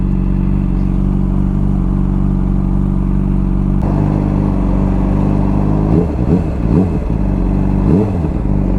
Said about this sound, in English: I often wonder why bikes rev their engine when they're stopped at lights.